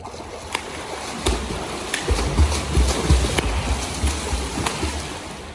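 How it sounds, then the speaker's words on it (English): Repeated sharp slaps of children's hands hitting water during beginner freestyle swimming, splashing irregularly amid a steady watery wash, fairly close. "If you're hearing that slapping sound, it means that the kids are not entering fingertips first"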